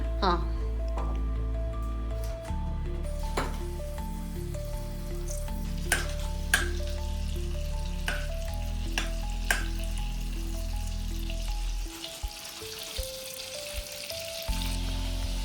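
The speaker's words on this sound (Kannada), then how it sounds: "ಈಗ ಬಟನ್ಗೆ ಒಂಚೂರು ಜೀರಿಗೆ ಹಾಕೊಂತ ಇದ್ದೀನಿ" Cumin sizzling in butter in a pan for pav bhaji, a steady close fry with repeated clinks and scrapes of a spoon; a voice talks over it.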